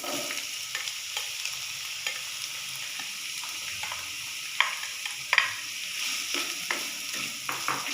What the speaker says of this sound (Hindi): 2 टेबलस्पून मैंने ऑयल लिया है, उसे गरम कर लिया। अब मैं इसके अंदर प्याज डाल रही हूँ।